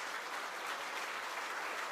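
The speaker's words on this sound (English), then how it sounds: "so that we can clap for them" An audience at a stock-exchange listing ceremony for Vinsys IT Services India Limited applauds award winners, a dense, steady patter of many hands clapping continuously, heard clearly without talk.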